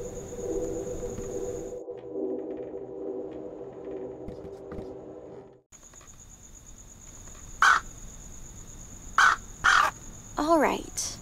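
Bird calls from a rooftop in the fantasy adventure game Anna's Quest come in a few short, sharp caws late on, over a steady hum of game music and ambience.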